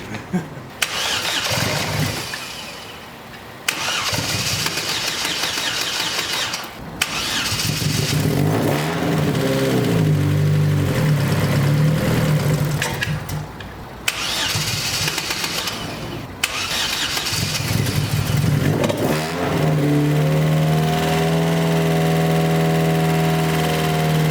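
A turbocharged 1.8-litre Chevrolet Cruze engine cranks and starts, then revs repeatedly in loud surges with short pauses between, turbo fluttering, ending in a steady high idle.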